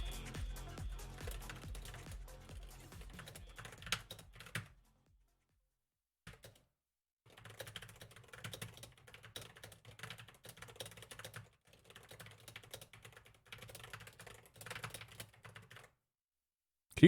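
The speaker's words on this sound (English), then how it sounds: "Can you guys hear my keyboard?" Typing on a very loud computer keyboard comes through as close, clattering bursts of keystrokes in several runs, broken by short silent pauses.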